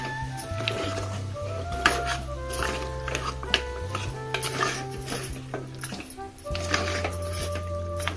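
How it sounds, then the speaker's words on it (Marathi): Goat trotters being stirred into a curry in a cooking pot, spoon scraping and clinking against the metal over a steady low hum, with someone talking alongside. "मिक्स करून घेऊ."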